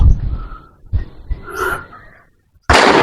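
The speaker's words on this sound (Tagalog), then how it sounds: "Putok yun ah." A sudden loud broadband burst arrives near the end after a quiet pause, a single sharp firecracker bang outdoors in a wide cemetery, following faint breathy sounds.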